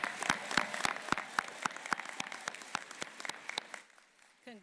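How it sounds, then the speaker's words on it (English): Scattered clapping from a graduation audience at Trenholm State Community College for adult education graduates, sharp individual claps in an uneven rhythm that thins out and fades near the end. "Let's give another round of applause to our adult education graduates."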